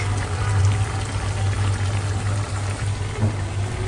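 Lemon juice pours in a steady, close stream over a low background hum while a Kabuli pulao is being prepared, with no talking.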